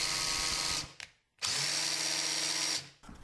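A power drill running in reverse whirs in two steady bursts with a short pause between them, loud and close, then winds down.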